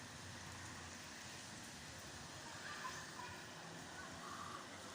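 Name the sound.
rain during a thunderstorm in Santa Ponsa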